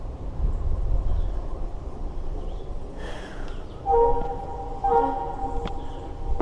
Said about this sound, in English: You can hear the train off in the distance there.